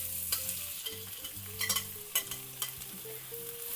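Chopped onion sizzles and crackles in a well-preheated cast-iron skillet over high heat, with a steady hiss of hot oil and occasional louder pops and stirring scrapes, close and alone.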